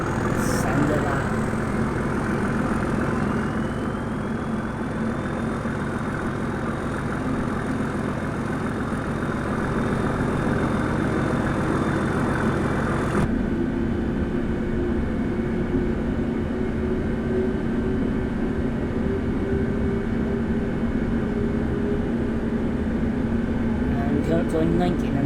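A diesel train engine at full thrust in Train Simulator 2022 gives a loud, steady, broadband roar with a rising tonal whine. The tone drops abruptly midway to a lower continuous rumble. No one speaks.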